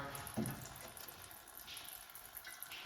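Engine oil draining from a Nissan 350Z into a pan makes a soft, continuous pouring trickle with a brief splash near the start, fairly quiet and steady, without speech.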